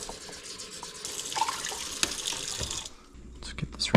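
Water runs from a kitchen tap into a pot for cooking rice, a steady close splashing rush that cuts off near the end, followed by light clatter.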